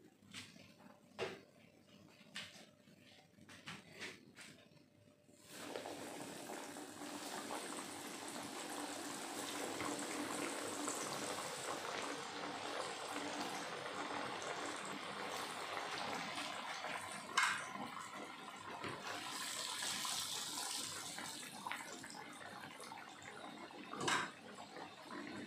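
Eggs frying crispy in hot oil: after a few scattered crackles, a steady loud sizzle sets in and holds, with occasional pops rising above the continuous hiss.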